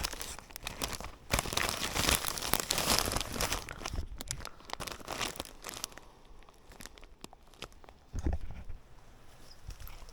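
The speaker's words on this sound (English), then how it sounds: "So I started filling up my bag, just enough to play with" Foraged wild spring greens, gathered at the end of a trail, being stuffed by hand into a bag, giving steady close crinkling and rustling that is busy at first, then quieter, with a louder crunch near the end.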